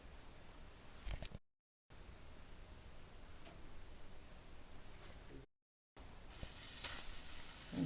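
Ukrainian buckwheat patties (hrechanyky) laid into a hot pan, with a quiet steady sizzle broken by two short silent gaps, then a louder, brighter crackling hiss as more patties go in.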